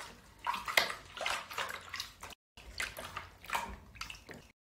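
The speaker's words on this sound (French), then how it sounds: "si vous saviez les éclaboussures qu'il nous fait" A baby splashes water in a home bathtub, producing bursts of sloshing and slapping water that rise and fall with a brief pause midway, fairly soft and close, with no voices.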